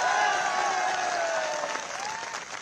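Crowd applause rolls steadily through an outdoor BJP public meeting with national president JP Nadda, a dense sustained clapping with a faint tonal hum beneath, easing slightly toward the end.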